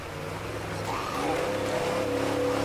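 Steady car engine hum from State of Decay 2 rising as the vehicle pulls away, a continuous low drone with a tonal whine building midway, fairly loud and with no talk.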